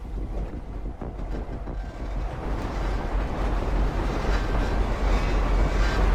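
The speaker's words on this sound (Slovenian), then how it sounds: "Vlak boste pelali do Power Station" A train driven in a GTA roleplay game gives a steady, loud, rumbling roar with wind-like noise, building slightly over several seconds, with no talking.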